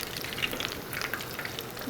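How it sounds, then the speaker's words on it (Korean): Shrimp tempura frying in hot oil, a loud, continuous crackling sizzle with steady bubbling and no talk over it. "자, 이렇게 해서 새우는 일단 튀겼고요."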